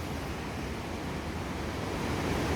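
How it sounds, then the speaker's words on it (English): Waterfall in Colca Canyon, Peru, feeding a river below, a continuous dense broadband rush of falling water heard alone, fairly loud and steady with wind blending in. "waterfall"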